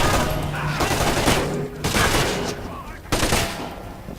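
Bursts of gunfire from the video game Splinter Cell: Conviction, sustained and loud across the clip, with brief gaps near the middle and end before the shooting resumes.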